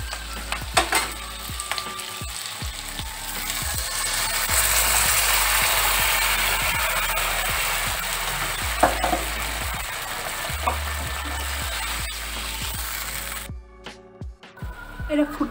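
Pepper, sugar and mixed sauces added to a hot frying pan for restaurant-style chilli chicken: loud, steady sizzling and frying with scraping stirs and clanks close by, a voice talking over it, the hiss briefly dropping near the end.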